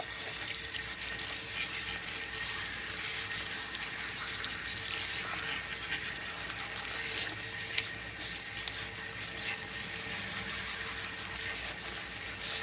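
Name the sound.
water rinsing a hair detox treatment in a salon sink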